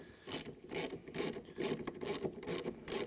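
A ratchet tightens the cage mount bracket on a Lucky Duck Ice-X floating ice eater, giving repeated close clicking strokes in a steady rhythm of about six pulls, with no talking.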